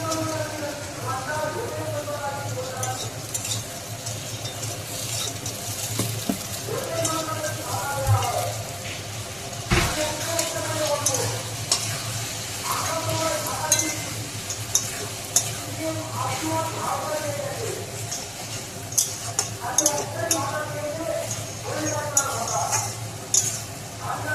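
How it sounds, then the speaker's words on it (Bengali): Tomato and capsicum frying in a pan for a chicken dish, with a steady sizzle and scraping stirring throughout; a voice talks over the cooking at times. "এখন দিয়ে দিলাম টমেটো আর ক্যাপসিকাম।"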